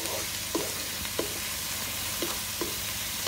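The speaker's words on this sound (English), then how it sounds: "you really don't even have to cook that garlic that long" Garlic sizzles with beef tips in a hot pan: a steady broadband frying hiss fills the scene, broken by a handful of short stirring scrapes spaced irregularly, close and even in level with no talk.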